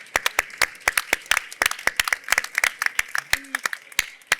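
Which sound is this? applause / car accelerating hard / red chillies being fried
applause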